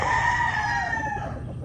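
A nine-month-old Possum Gilmore gamecock rooster crows once nearby, a loud drawn-out call that fades over under two seconds.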